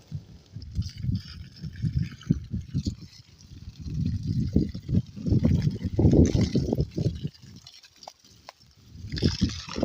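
A 12V battery-powered submersible pump sits in a canal, pushing water out of a hose to water banana plants, with an irregular gushing, splashing flow that surges and fades.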